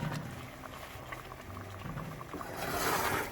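A big turkey gizzard stews in sauce in a pot, giving a steady close bubbling and simmering with soft patter throughout, which swells to a louder hiss near the end.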